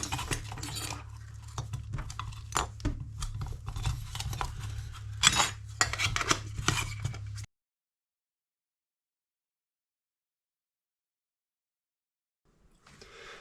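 Clinking metal as an MSR fuel canister, a mini Bic lighter and a BRS titanium stove are nested together for packing: close, irregular taps and rattles over a steady hum, followed by silence.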